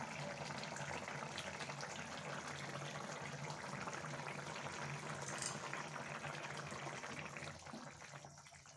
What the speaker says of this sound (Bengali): ঝোল কিন্তু ফুটে গিয়েছে ভালোভাবে।